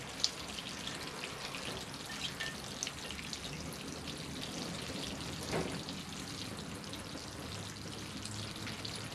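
Water trickling and splashing steadily as a Portulacaria afra bonsai is watered thoroughly and drains through its pot, a soft continuous patter with a brief louder splash midway.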